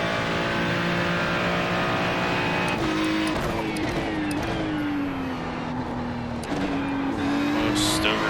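Ferrari 296 GT3 race car in iRacing at Indianapolis Motor Speedway in a multi-class IMSA race, its engine droning loud and steady, then winding through gear changes and a rising, falling pitch, with a faint tire squeal.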